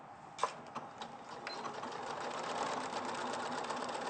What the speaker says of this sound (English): So you're just sewing it with a 1/4 inch seam.